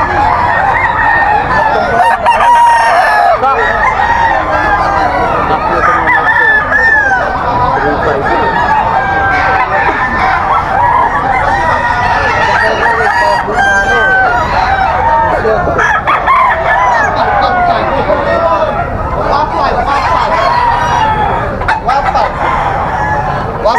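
A Golden Boy gamefowl rooster crows repeatedly at a busy pet market in Bocaue, the calls rising over clucking fowl and constant crowd chatter.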